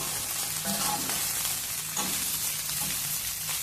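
Brinjal rice (vangi bath) made with basmati rice is stirred in a hot pan, giving scraping spoon strokes over a steady sizzle, close and continuous with no voices.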